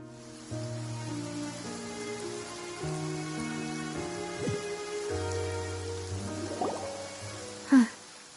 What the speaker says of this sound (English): It's been raining non-stop for a few days now.